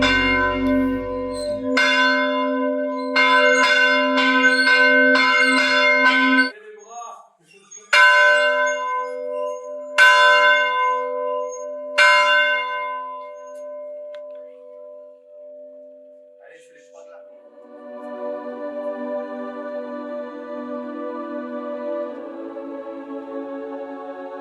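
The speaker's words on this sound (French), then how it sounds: "il y en a un qui sait sonner une cloche" A church bell rings out in a green valley, steady repeated strokes with long ringing tails, loud and alone, then fading into a softer sustained tone near the end.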